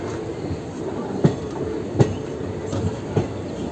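A train pulls out of Krishna railway station bound for Kacheguda, its wheels thumping over rail joints in a slow, uneven clickety-clack beneath a continuous rolling rumble, heard from on board.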